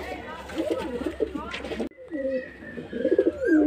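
A male Kaldum pigeon coos in a few harmonic phrases, close and moderately loud, with a brief break midway and a human voice talking softly around the calls.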